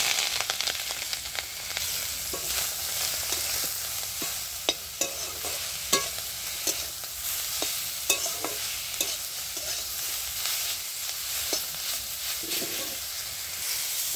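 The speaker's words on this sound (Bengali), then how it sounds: "ওই তেলের মধ্যে আমি মাশরুমটাও দিয়ে ভেজে নিচ্ছি" Mushrooms fry in oil left over from potatoes, a continuous close sizzle punctuated by frequent sharp clicks and scrapes of stirring against the pan.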